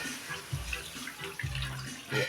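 Water is poured into a cooking pot holding tomato paste for pochero, giving a soft, continuous splashing stream with light low thumps, close by and fairly quiet.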